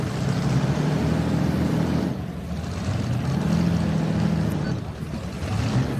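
A deep, powerful Allison engine in a pulling tractor roars continuously nearby at a truck and tractor pull championship, its growl rising and dipping slightly, with a brief lull in the middle.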